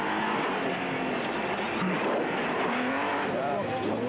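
Team Ford Racing Ranger rally truck in the 2003 Sugarbelt 400, engine exhaust droning loudly and continuously with shifting pitch sweeps, close by, with voices mixed in.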